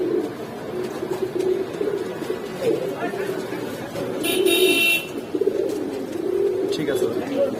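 Giribaz and Kaldom pigeons coo in a steady, overlapping low murmur throughout, close and continuous, while people talk in the background and a brief higher tone cuts in midway.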